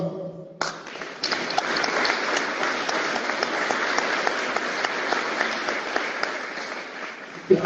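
Warm, sustained applause from an audience at a Paraguayan guarania music night, a dense burst of clapping that starts suddenly and carries on evenly for about seven seconds.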